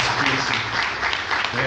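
Brief applause for members of an association at an Italian community gathering, a short burst of mixed clapping from a modest audience heard at moderate volume.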